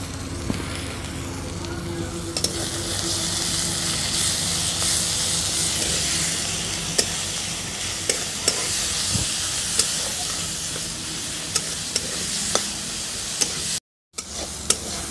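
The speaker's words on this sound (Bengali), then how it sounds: "মশলাটা ভালো করে কষিয়ে নিচ্ছি, তবে অল্প জল দিব" Spice paste with salt and tomato frying in a pan for potol dorma, a loud continuous hiss and sizzle close by, with scattered clicks and scrapes of stirring throughout and a brief cut near the end.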